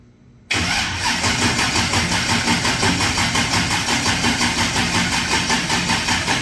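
A shop car engine cranks and catches on its first start, then runs in a loud, steady, close rumble with a rough pulsing idle.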